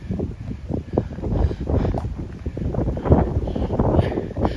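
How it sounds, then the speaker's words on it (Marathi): Strong wind gusts roar and buffet the microphone in uneven low bursts, rising and falling throughout, on the hilltop Sudhagad Fort in Maharashtra. "सुसाट्यानं वारा चालू आहे."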